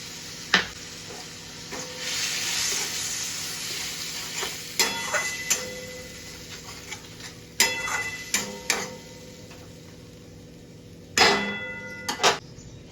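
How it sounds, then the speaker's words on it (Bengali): Masala of ginger-garlic paste and tomato paste frying in a pan for a potato and pointed gourd curry, a soft steady sizzle broken by sharp clangs of a spatula stirring against the metal. "মশলাটা ভালো করে কষিয়ে নেব।"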